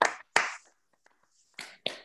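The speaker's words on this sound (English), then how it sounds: "you're welcome to give a round of applause" A handful of sharp claps, a couple of loud bursts then a pause before two more quick sets, sounding like a small, sparse group applauding at a lecture gathering.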